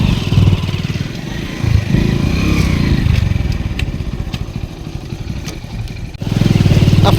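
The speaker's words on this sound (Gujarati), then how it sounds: "આ પાણીમાં ગાડી કાઢી લીધી છે અને જવા દીધી છે।" A vehicle engine drives through water on a farm track. It gives a steady, fairly loud rumble that sags slightly midway, then swells again near the end.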